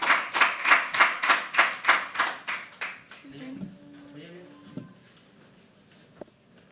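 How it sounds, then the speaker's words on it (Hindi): An audience at a live poetry open mic claps in a steady rhythmic beat of about a dozen loud claps, then fades into murmuring room noise and a few knocks. "तो जब तक स्टेज पे ना आ जाएं आप तालियां बजाते रहें"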